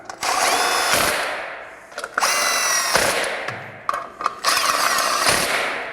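A cordless power drill drives three screws on a Polaris machine's belt cover in short bursts, its whine rising and stopping repeatedly with brief ratcheting clicks between runs, close and loud with no talking.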